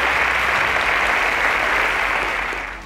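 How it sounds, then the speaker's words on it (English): Studio audience at a quiz show semi-final applauds steadily in a dense, continuous wash of clapping that holds throughout and tapers slightly at the end, with no talk over it. "A round of applause for Chinelolum's teacher"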